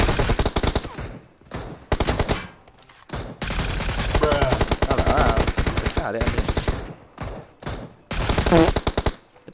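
Rapid automatic gunfire rattles through a mobile shooting video game, long dense bursts separated by short gaps, loud and close, with a player's voice occasionally heard among the shots.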